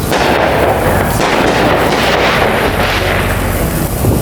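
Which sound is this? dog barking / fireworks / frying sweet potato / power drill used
fireworks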